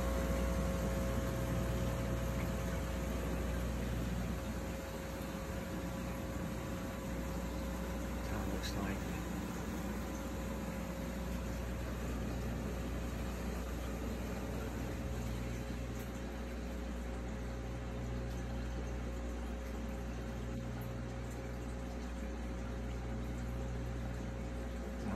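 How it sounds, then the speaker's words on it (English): A big air pump runs on a tilapia fish tank, giving a steady, continuous mechanical hum with a faint bubbling hiss. It stays at a constant level throughout with no pauses. "Got one big air pump."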